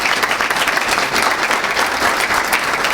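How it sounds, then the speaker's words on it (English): Sustained loud applause fills a conference-style talk event as guest speakers are welcomed to the stage, a dense even clapping of an audience with no voices on top. "Let's have a round of applause"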